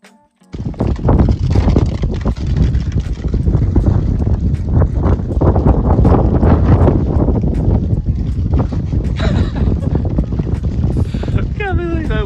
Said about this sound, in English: Can't believe how windy it is.